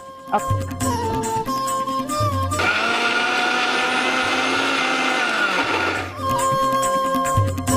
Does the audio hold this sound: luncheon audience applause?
no